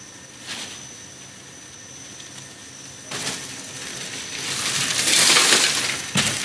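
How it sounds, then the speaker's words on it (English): Tempered glass 4 mm thick breaking at a live tempering demonstration, a crackling shatter that builds into a loud, dense burst of fragments, with sharper bursts near the start and end. "let's break the 4 mm glass"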